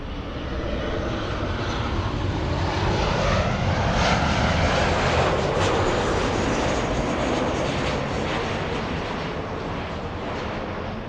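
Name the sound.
Boeing 737 airliner engine at LAX airport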